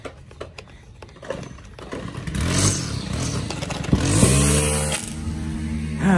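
A string trimmer's small engine sputters through a few pull attempts, then catches and revs up loudly, rising and wavering in pitch up close.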